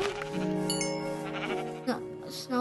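Sheep bleating in the Minecraft video game, with a few wavering bleats that overlap each other, close and fairly loud under a steady background.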